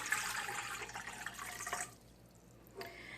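Lukewarm water pours steadily into a mixing bowl with a rushing splash for about two seconds, then stops, leaving quiet room tone and a brief faint trickle near the end.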